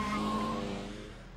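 A race car in an anime mountain road battle holds a high tire squeal with engine drone as its inside tires grip the road edge, loud at first and then fading over a short stretch.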